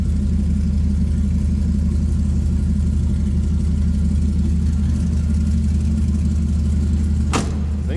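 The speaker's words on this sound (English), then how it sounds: "Thing's got a little rumble to it too. It's a dual exhaust and side exit exhaust." A 1959 Chevrolet Impala four-door flat top with an LS engine swap idles steadily through dual side-exit exhausts, giving a continuous low rumble close by with no talk over it.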